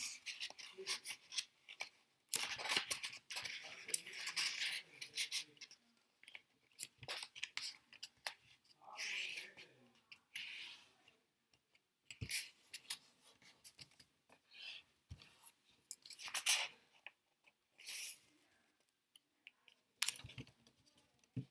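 Paper being folded for an origami rabbit makes soft, faint, intermittent crinkles, rustles and creasing scrapes in quiet bursts, with no talking.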